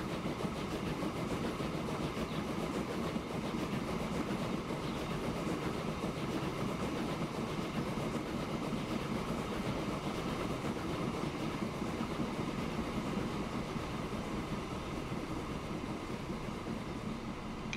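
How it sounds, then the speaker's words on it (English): A heavily loaded iron ore freight train in the video game Transport Fever gives a steady, dense rumble with continuous rolling clatter, constant in level and with no voices. "this train doesn't like pulling that much iron ore"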